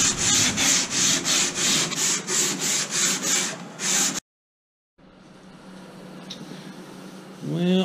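Sandpaper rubs back and forth along a wooden rail on a sailing boat under construction, a loud, steady rhythm of about a dozen close strokes, followed after a pause by a quieter scraping stretch.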